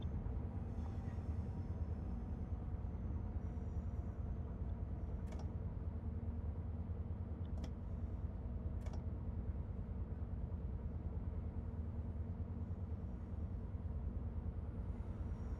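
A steady low rumble of an old, worn diesel train running on the Riviera Line in Train Sim World 6, continuous and droning, with a few sharp clicks or clanks standing out briefly over the engine hum.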